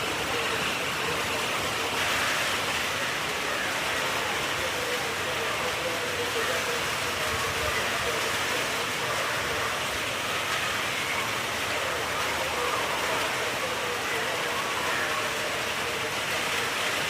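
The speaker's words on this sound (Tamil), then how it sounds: "இன்னும் மழை தான் பெய்யுது பாருங்க" Heavy rain pours steadily in Kodaikanal, a dense, constant hiss that stays loud and even throughout with no pauses.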